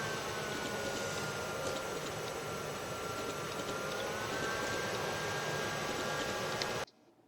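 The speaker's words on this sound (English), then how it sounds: "Good airflow from this Sickle Flow Green, but it's loud" Thermaltake Sickle Flow Green 120mm LED case fan running loudly, a steady broadband whooshing roar of airflow held at constant level for about seven seconds before cutting off abruptly.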